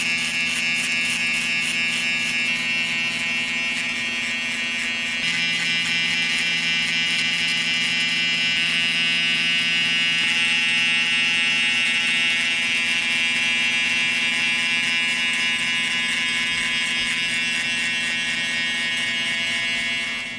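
An electric hair clipper runs continuously while removing bulk during a mid fade haircut, giving a close, steady high-pitched buzz that shifts slightly in tone as it moves through the hair, with no voices.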